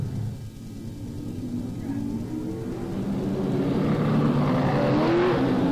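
Race cars circle a speedway oval behind the pace car at Mosport in 1995, a steady low engine drone building louder as the pack draws nearer, with commentary over it.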